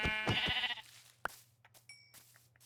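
Sheep in the Minecraft video game bleating, one loud wavering bleat up front followed by a couple of short clicks and small game sounds over a low steady hum.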